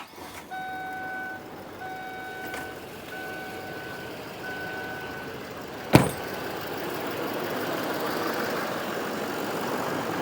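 Duramax LML diesel pickup truck engine idling steadily after a head gasket job, with a repeating reversing-style beep tone early on and a sharp clack midway before the diesel rumble carries on alone.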